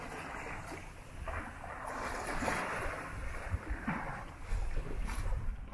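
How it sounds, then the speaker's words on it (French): A sailboat moves under sail with only the genoa set, giving a steady rush of wind and water along the hull, with swells of louder splashing and faint creaks throughout and no voices. "Bon, on est toujours sous voile."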